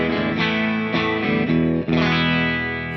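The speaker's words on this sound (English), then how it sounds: "So this is a clean sound of just the amp." A clean electric guitar played straight through an amp model on a ToneX, with a few strummed chords ringing out near and loud with no talk.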